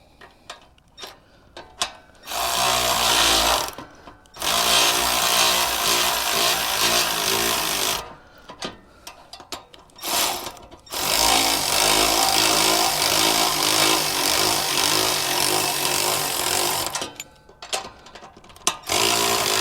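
An impact wrench with a socket drives seat suspension springs on a Coleman CT200U mini bike, in three loud sustained whirring bursts of a few seconds each, separated by quieter pauses with light handling clatter.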